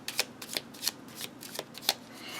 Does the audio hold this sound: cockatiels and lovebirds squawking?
no